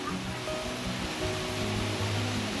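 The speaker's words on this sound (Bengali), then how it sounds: "মারাত্মক জোর বৃষ্টি হচ্ছে জানি না ভিডিওতে কতটা বোঝা যাচ্ছে কিন্তু জোর হচ্ছে বৃষ্টিটা" Heavy rain pours in a steady, dense wash of noise, loud and continuous throughout with no pauses or voices.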